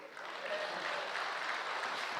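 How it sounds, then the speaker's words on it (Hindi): Dense, steady applause from a large audience, many hands clapping together in a continuous wash of sound. "बजाइए जोर से ताली।"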